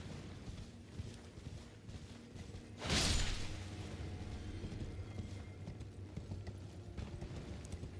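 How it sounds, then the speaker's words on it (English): A horse gallops across terrain in the video game Elden Ring, with soft rhythmic hoofbeats over a low background and a brief whooshing burst partway through. "just let me use the horse"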